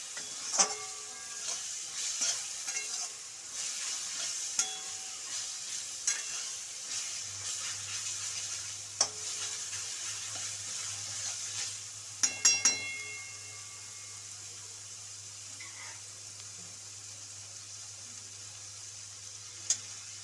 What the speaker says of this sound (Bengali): এই কড়াইয়ের চারধার থেকে তেল ছাড়তে শুরু করেছে মশলা দিয়ে, তার মানে মশলাটা কষানো হয়ে গেছে